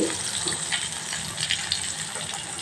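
Onion, mustard seeds, cumin and curry leaves sizzling in hot oil in a pan for aloo kurma, a steady close hiss and crackle with scattered pops, with no talking.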